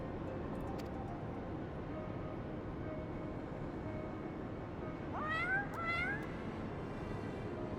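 A cat in the game Final Fantasy XIV gives two short rising meows close together over a steady low hum.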